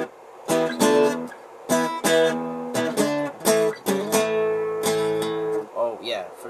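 Electric guitar riff, played as a fast run of bright plucked notes with short gaps between phrases, close and loud and heard on its own.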